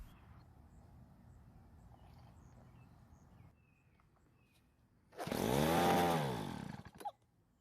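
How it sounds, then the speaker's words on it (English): Vintage Weedeater two-stroke leaf blower sparks to life with a loud, buzzing roar after a quieter stretch of background noise, runs strongly for about two seconds, then cuts off abruptly. "Let's put some fuel into the carburetor throat and try starting it."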